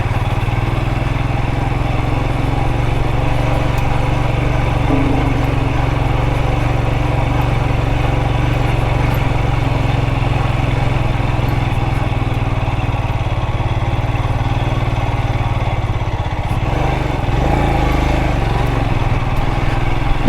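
A Royal Enfield Himalayan 411 motorcycle pushes through deep sand, its engine droning loud and steady throughout, close to the rider with a slight dip in level near the end.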